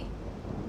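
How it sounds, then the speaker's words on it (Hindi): Deep rolling thunder rumbles alone for under a second, a dense low roar with a faint rainy hiss on top. "कैलाश गरज रहा है महादेव।"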